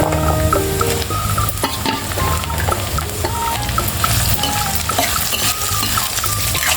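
Okra pieces and onions fry in oil in a pan while being stirred: a steady, close sizzle with repeated scraping of the spoon, and no voices.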